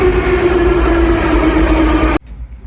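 Passenger train rolling past at close range, a loud steady rumble with a strong droning tone that cuts off abruptly near the end, leaving quieter background noise.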